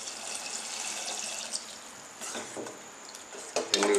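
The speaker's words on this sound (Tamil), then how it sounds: "இனி இதில் நமக்கு தேவைக்கு தண்ணி விட்டு" Water pours and splashes into a pot of manathakkali greens soup being cooked, a soft hissing pour with a few small clinks and a louder splash at the end.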